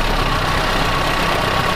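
A 1970 Fiat 238 camper van engine idles with a continuous, even, low mechanical rumble, close and steady, with no voices.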